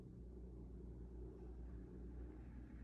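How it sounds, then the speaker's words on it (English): A car engine with a rough, lawnmower-like running note, a low steady rumble that holds at an even level throughout. "No, your car just sounds like a lawnmower."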